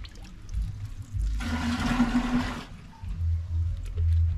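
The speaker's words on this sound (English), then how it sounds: "I'm just putting clean water so that I can start" Clean water is poured for washing clothes in a village, a single gushing pour of about a second and a half, close and clear, with quieter handling noises around it.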